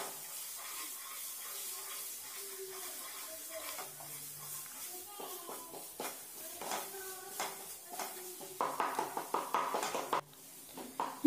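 Spice powders sauté in a pan for a spicy Kerala egg curry, with a soft sizzle under repeated clinks and scrapes of a spoon against the metal that grow quicker and louder toward the end.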